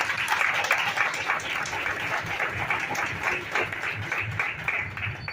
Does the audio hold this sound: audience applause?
yes